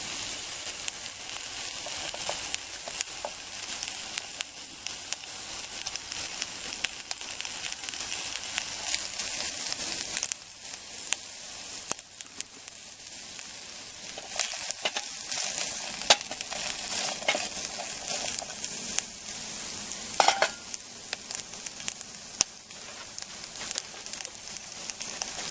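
Chopped onions sizzle steadily in a pan over a camp stove, a continuous close frying hiss with occasional soft stirring scrapes and crackles, no voices.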